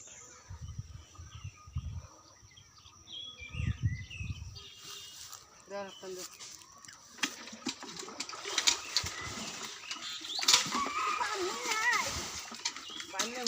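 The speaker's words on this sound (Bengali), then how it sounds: "এখন পানিগুলা পুরোটুক সেচলে বোঝা যাবে কীরকম মাছ পাওয়া যাবে" Water is bailed out of a pond to catch fish. Close splashes and sloshing repeat under steady outdoor conversation, with birds and insects faintly in the background.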